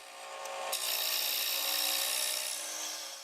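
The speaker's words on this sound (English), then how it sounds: "We're going to use our Easy Finisher and slowly slide it back and forth while being careful not to get close to the bead." An Easy Finisher woodturning tool scrapes a spinning beaded rim bowl on a lathe, giving one smooth, continuous rasping hiss that swells and fades across a few seconds, alone and fairly close.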